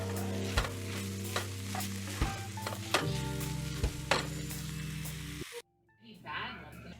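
Beef frying with pepper, onion and garlic in a pan for pumpkin chili, a steady close sizzle broken by several sharp scraping stirs, then cutting off abruptly near the end as quieter handling noises follow.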